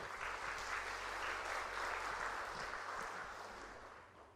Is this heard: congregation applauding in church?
yes